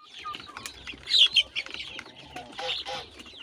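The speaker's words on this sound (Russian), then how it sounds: "Цыплят выпустила, кушают." Hens cluck and chicks peep in a busy, close mix, with a brief flutter of wings partway through.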